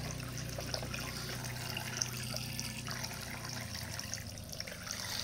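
Water runs and trickles continuously in a toy dish-washing sink as dishes are scrubbed, a steady close splashing wash without talking.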